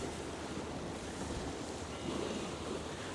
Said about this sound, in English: that wind is picking up as well